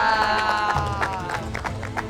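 Audience applause and cheering at a community event in Kampung Sindang Jaya after a Sampurasun dance performance, brief and close, mixed with crowd chatter and music.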